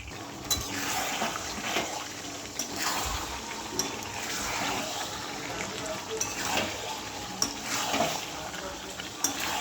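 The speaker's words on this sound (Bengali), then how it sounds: "তারপর প্রেসারে দেবো, খেতে ভালো হবে, তাই জন্য আমি আগে কষিয়ে নিচ্ছি" Mutton is sautéed in a pan before pressure cooking: continuous sizzling, with repeated scraping and stirring strokes of a spatula against the pan at an irregular rhythm, close and fairly loud.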